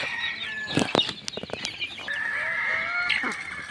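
A mother hen with her chicks at feeding time in a small backyard coop, with sharp clucks and peeping calls scattered over a soft background, close and fairly clear.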